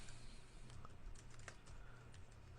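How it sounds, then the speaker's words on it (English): Typing on a computer keyboard while entering a cell label in a Microsoft Excel spreadsheet, a steady run of quick, light key clicks heard close up and alone, with no talking. "I'm going to type employee payroll."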